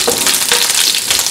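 Sliced green chillies sizzle in hot oil in a pan on a low flame, a steady close frying hiss with small crackles running throughout, no voices.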